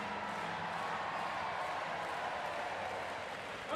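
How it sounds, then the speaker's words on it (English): Raucous home crowd at a men's sitting volleyball match between Great Britain and Morocco at the London 2012 Paralympics, a steady wash of distant cheering and applause filling the arena, continuous and even, with no distinct voices. "So far, so good for the home team, who are being roared on by a very raucous crowd."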